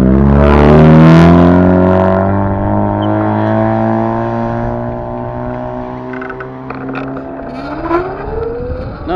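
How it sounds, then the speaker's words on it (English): A loud car engine with a bad-sounding engine roars close by and slowly fades as the car passes, its low droning tone shifting in pitch, with a brief rising whine near the end. "Another douchebag with a loud car and bad engine."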